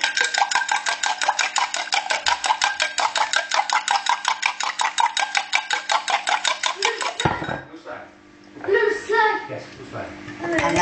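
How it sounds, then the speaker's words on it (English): A fork beating two whole eggs and an egg yolk in a bowl, a fast steady series of close clinking taps for about seven seconds, then irregular clatter and a voice speaking. "Mix it with a fork."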